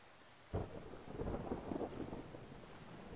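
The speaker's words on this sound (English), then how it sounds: "the storm's getting further away, it seems" A thunderstorm in the video game Brothers: A Tale of Two Sons: a sudden thunder crack gives way to a rolling rumble over steady rain, without voices.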